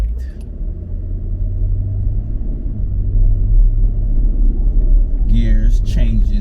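A fire-damaged 2013 Chevy Equinox from a salvage auction drives on a first test run, its low cabin road rumble and engine drone steady and close, with a voice speaking briefly near the end.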